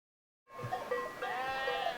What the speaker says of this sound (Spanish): En Judea, actualmente, borregos y cabras aún pastan en las colinas.